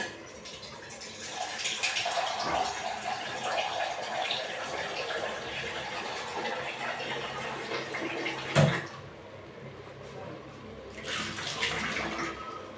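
Water poured into a pressure cooker holding dal, a continuous splashing and gushing stream that briefly stops with a thump before pouring resumes.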